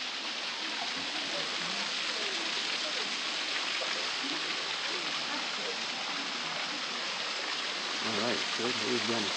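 Buttermilk Falls, a waterfall pouring down in a steady broad rush heard nearby, with a voice speaking over it near the end.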